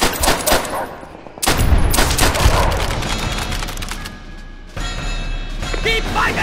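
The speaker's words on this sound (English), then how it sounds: "Enemy artillery!" Heavy gunfire and explosive booms in the World War II shooter Call of Duty: World at War, with sharp blasts and rattling bursts over a noisy battlefield, under shouted in-game voices.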